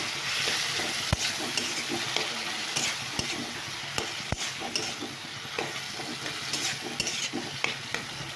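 Spiced tomatoes in a frying pan sizzle continuously while a utensil stirs them, with sharp scraping taps against the pan at irregular intervals and no voices.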